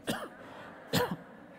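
Two short coughs, a quick one at the start and another about a second later, close and fairly quiet, with no talking.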